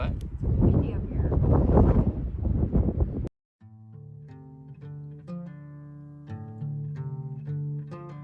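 Strong wind buffeting the microphone on a mountain top during a backcountry elk shed hunt, a loud rough roar for about three seconds that cuts off abruptly, followed by quieter tonal music.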